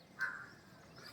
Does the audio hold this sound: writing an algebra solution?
no